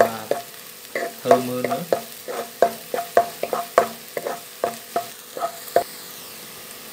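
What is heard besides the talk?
stir-frying ginger in a pan for fish fried rice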